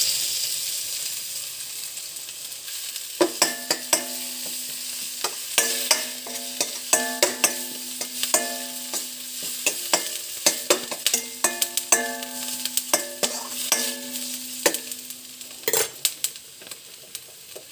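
Ginger garlic paste frying in a pan for chicken biryani, a constant sizzle broken by repeated sharp scrapes and clacks of a spoon stirring against the pan, close and fairly loud, no talking.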